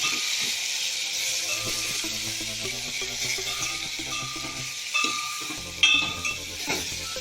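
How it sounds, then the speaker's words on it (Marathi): Eggplant sautés in oil in a pan, giving a steady sizzling hiss, with a few soft clinks of stirring near the end and no talking. "वांगी पूर्ण परतून घेऊ."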